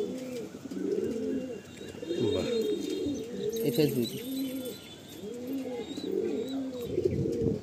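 Pigeons cooing steadily at a pigeon sale, a rhythmic series of close, throaty coos with a faint chirp, while a person speaks briefly.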